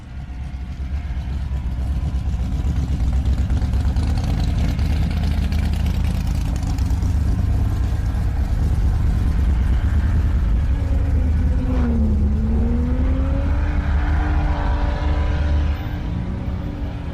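Drift cars in the pits at Brands Hatch during the British Drift Car Championship, engines idling and rumbling steadily close by with a low drone, one engine revving briefly midway, no talk.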